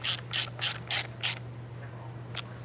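A ratchet snugs bolts into plastic on a Volvo XC90 P2 during blower motor replacement: five quick evenly spaced clicking bursts, then a pause and one last short click, close and loud over a low steady hum.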